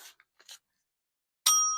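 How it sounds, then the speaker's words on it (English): A small hand bell rings once near the end, a bright metallic ding with a lingering ring, after some soft low-level speech-like sounds and a pause. "Ring the bell, my bell."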